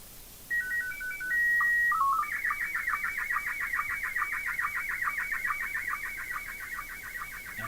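Radio signal received from the ISS on an amateur radio setup, a fax-machine-like series of tones: a few steady beeps and a warble, then a long run of rapid rhythmic chirps over faint static hiss.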